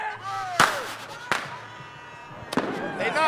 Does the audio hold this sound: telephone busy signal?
no